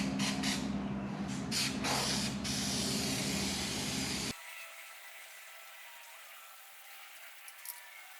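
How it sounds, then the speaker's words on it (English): Aerosol adhesive sprays onto headliner fabric for a 1984 Pontiac Fiero in a few short bursts and then a long continuous hiss that cuts off abruptly, followed by quiet room tone. "So I'm going to spray this, then I'm going to spray the underside of the fabric"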